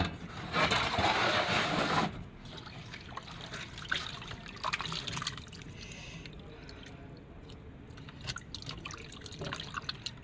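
Water trickles and drips for washing African salad (Edita Iwa) that has soaked for 24 hours, with a louder pouring burst at the start, then softer splashes and handling noises up close.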